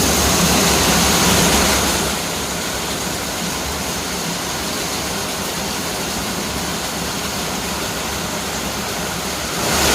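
Steady broadband rushing floodwater on a city street in Las Piñas, loud and continuous, like a flood current pouring past, with no voices.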